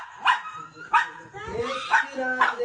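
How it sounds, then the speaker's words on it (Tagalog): A rescued dog gives four sharp barks spaced about a second apart, close and fairly loud, with faint background noise between them. "Yung aso na yan."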